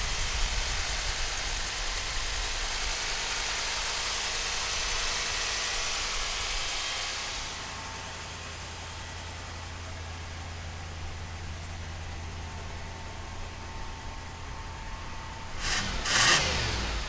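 A 1984 Buick Riviera engine runs under a steady wash of noise, settling into a low, even idle rumble, with a brief louder burst near the end.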